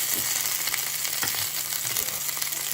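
Meatballs brown in a frying pan with a steady, close hiss of sizzling fat, broken by a few soft taps and shifts as they are turned.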